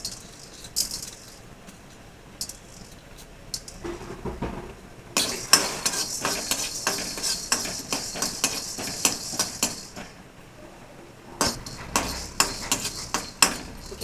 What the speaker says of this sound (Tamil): அடுத்து நம்ம மிளகாய் ஃப்ரை பண்ணிக்கலாம்.